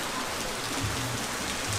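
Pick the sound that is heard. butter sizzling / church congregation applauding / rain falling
rain falling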